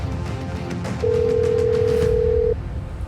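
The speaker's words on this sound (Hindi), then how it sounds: "गंगा ने राधा को फोन करके कहा" A phone ringing for an incoming call, with one steady electronic tone holding for about a second and a half over a busy background bed, loud and close.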